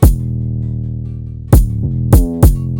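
Punchy kick drum hits land over a sustained, deep 808 bass line in an FL Studio moombahton remix, with a few heavy, evenly spaced thumps and no voices.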